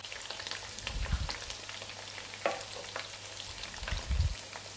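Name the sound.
chicken 65 deep frying in oil on medium flame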